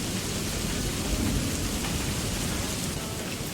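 Dense, even rainfall from a website's rain-sound player hisses continuously with a low rumble underneath, like a steady downpour in a storm, with no voices.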